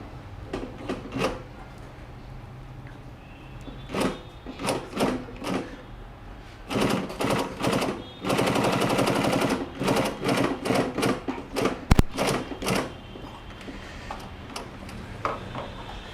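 Leather sewing machine running at reduced speed with a shortened stitch length, giving bursts of rapid mechanical stitching ticks separated by pauses, close and fairly loud with no talking.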